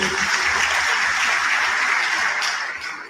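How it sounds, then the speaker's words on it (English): Applause from a conference audience at a pharmaceutical society gathering in Jos, a dense, steady wash of clapping that holds level for about three seconds, then begins to thin near the end. "Please, another round of applause for him."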